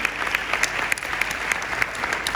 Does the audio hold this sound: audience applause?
yes